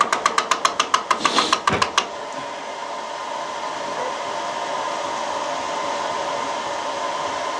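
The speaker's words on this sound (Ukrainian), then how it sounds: "Так, треба виключити станок." A 16U04P lathe fitted with a milling attachment runs with a steady mechanical hum, preceded by a rapid series of sharp metallic ticks in the opening two seconds, close and moderately loud without talk.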